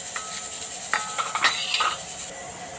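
A spoon stirs turmeric and garam masala into an egg mixture in a pan, making light metallic clinks and scrapes in a few quick strokes over a low background hiss.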